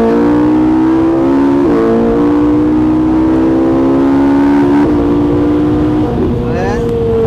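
Ferrari 458 V8 engine on the Haute Saintonge race circuit, heard from inside the car: a loud, steady high-pitched engine note with brief gear-shift dips and a rising rev near the end.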